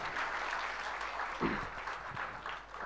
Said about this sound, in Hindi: आप सभी का जोरदार ताली के साथ अभिनंदन